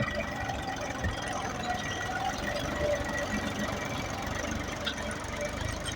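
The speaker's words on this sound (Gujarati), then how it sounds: "આ અમારું બીજું ટ્રેક્ટર છે." A tractor engine runs steadily while ploughing a field with a rotary tiller, a continuous mid-pitched mechanical drone with squealing overtones and faint knocking, heard from a short distance.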